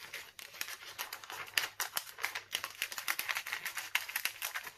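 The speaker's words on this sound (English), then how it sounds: "So I'm just going to just roughly cut out my two little circles here." Scissors rapidly snip around small circles of crinkly cellophane, giving a quick, uneven run of close, crisp cuts with faint rustling of the sheet.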